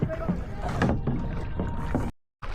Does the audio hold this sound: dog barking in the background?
no